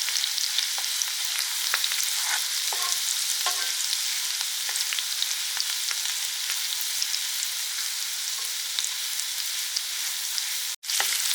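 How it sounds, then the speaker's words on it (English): Garlic sizzles steadily in melted butter and oil in a pan for prawns, a continuous bright frying hiss with small pops and crackles throughout, briefly broken by a sharp click near the end. "we add the garlic and just get that cooking so that the flavour and the taste of the garlic goes into the oil."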